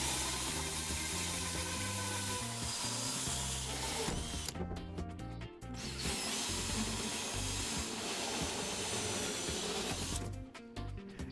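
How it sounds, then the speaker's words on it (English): A power drill bores holes in the wall panel of an Ensemble Medley bath/shower during installation, a steady whirring grind that cuts off briefly twice before resuming. "Now drill the holes to the correct size."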